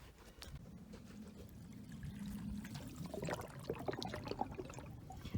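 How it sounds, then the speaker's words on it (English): Quiet trickling and gurgling water, a soft continuous flow that grows busier with small bubbling splashes toward the end. "I'm still hearing water gurgling,"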